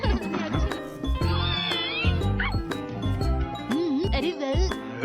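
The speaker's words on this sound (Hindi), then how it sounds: "शीरो ने इस बिल्ली को बचाया है" A cartoon cat meows repeatedly in the Hindi-dubbed Shin-chan, with high, wavering cries over background music and sound effects, loud and close.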